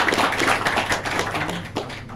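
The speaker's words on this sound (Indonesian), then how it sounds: "Tepuk tangan untuk Amin Muda." An audience at a 2024 election political gathering claps for the Amin Muda youth group. The applause is dense and steady, a continuous patter of many hands lasting a couple of seconds.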